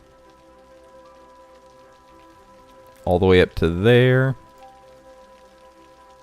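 Steady rain falling in the city-building game Cities Skylines, a soft continuous patter throughout, with someone briefly speaking over it midway.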